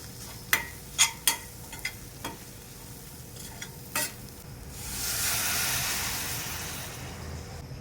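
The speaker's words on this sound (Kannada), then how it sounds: "ಮಸಾಲೆನ ಈರುಳ್ಳಿ ಜೊತೆ ಚೆನ್ನಾಗಿ ಫ್ರೈ ಮಾಡಿಕೊಂಡು" Masala frying with onions for an egg curry, a few sharp spoon scrapes and taps against the pan followed by a soft swelling sizzle, close and fairly quiet, with no talking.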